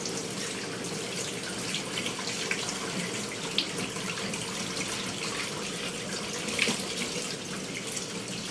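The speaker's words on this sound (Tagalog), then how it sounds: "Hugasan muna natin." Raw chicken pieces from a market rinsed under a running kitchen tap, a steady close hiss of flowing water with faint splashes and occasional clinks, no talking.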